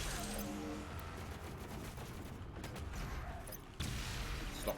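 Dense, continuous gunfire in the first-person shooter Doom Eternal, played on Ultra Nightmare, fills the whole stretch as a steady barrage with a heavier burst near the end.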